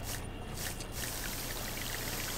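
A water pistol sprays in LEGO Star Wars: The Skywalker Saga on Kashyyyk, a steady hissing, splashing stream that runs continuously and fills the whole stretch up close.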